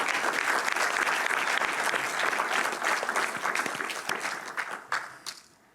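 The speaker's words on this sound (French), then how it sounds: "Tous les intervenants, je crois vous pouvez vous applaudir mutuellement." Conference attendees give a round of applause at a closing session, dense clapping that holds strongly, then thins out and fades away at the end.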